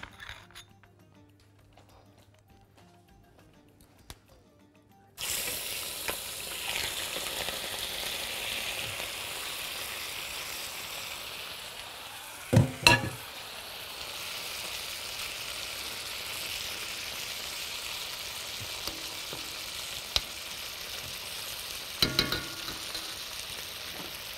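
Meat for kebab fatteh goes into a hot pan after a few quiet seconds, then fries with a steady close hiss and sizzle, broken by a few sharp clinks of a utensil against the pan.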